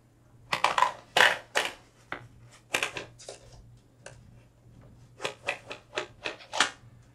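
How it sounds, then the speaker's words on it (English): Keys strike on a 1959 Royal Futura portable manual typewriter, loud sharp clacks in irregular bursts with short pauses, recorded close up with no voices. "Let's do just a little typing test here."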